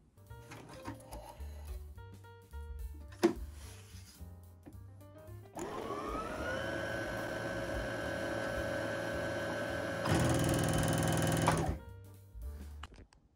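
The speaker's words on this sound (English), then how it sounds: "Before I move on to sewing the actual piece, I always want to do a test stitch" A home sewing machine runs a test stitch on fabric, with a few clicks and handling first, then a steady whirring hum that speeds up and grows louder near the end before stopping.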